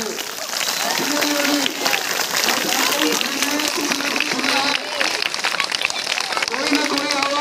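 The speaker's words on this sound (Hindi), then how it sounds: "जोरदार तालियां सभी के लिए।" Dense clapping from a group continues for several seconds, loud and steady, with children's voices chattering underneath.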